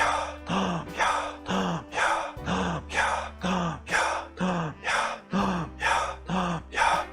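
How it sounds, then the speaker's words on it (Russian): A person demonstrates a very fast breathing exercise done 108 times, with a dozen or so forceful, evenly paced breaths, each a little over half a second apart, heard up close with no talk over them. "Человек начинает очень быстро, эффективно дышать."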